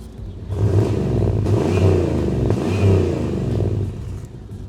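A car exhaust revs up and down twice with a rumbling, throaty tone, loud and close, with no talking.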